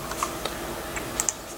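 An IP address is tapped out on a computer keyboard, a few sparse, light key clicks spaced unevenly over a quiet background hum.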